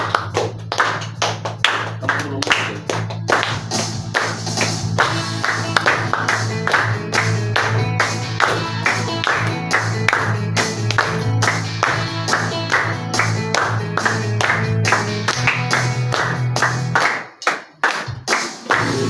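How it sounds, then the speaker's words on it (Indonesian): A church congregation claps rhythmically in time with worship music, sharp regular hand claps over sustained instruments and a low drone, loud and close, continuing steadily before dropping out briefly near the end. "Berikan tepuk tangan yang meriah untuk Tuhan."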